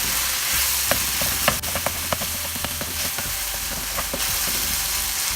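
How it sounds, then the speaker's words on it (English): Mashed tomato masala for Bengali egg kalia sautés in ghee over medium heat, giving a steady close sizzle broken by sharp, irregular scrapes and taps of the spatula against the pan. "Mash the tomato as much as possible and keep stirring on medium heat"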